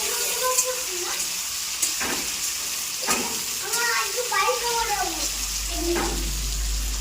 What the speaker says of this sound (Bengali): পেঁয়াজ দেওয়া হচ্ছে, এটাকে ভেজে নেওয়া হবে